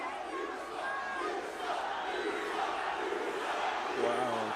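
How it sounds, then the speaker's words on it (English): A wrestling arena crowd roars and cheers in a steady, sustained wash of voices, with some louder swells and shouts near the end. "Wow, it's the crowd."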